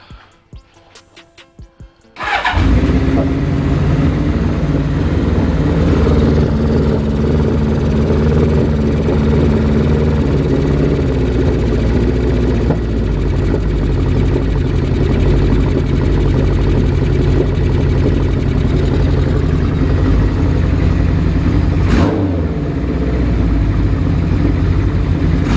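A small engine runs steadily after its air and fuel mixture screws are turned out, holding a loud, continuous idle with a slightly uneven, rumbling tone, following a few brief sputters as it starts.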